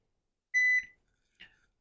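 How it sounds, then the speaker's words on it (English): A Nokta AccuPOINT metal detector pinpointer gives a single clear electronic beep of about a quarter second, then a fainter short chirp follows, in an otherwise quiet room. "I'm going to turn this off so it doesn't beep."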